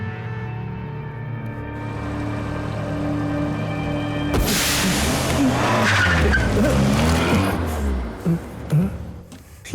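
A car in a movie scene skids after a tyre puncture, its engine droning before a sudden harsh burst of tyre squeal and noisy scraping that stays loud, then fades with scattered knocks.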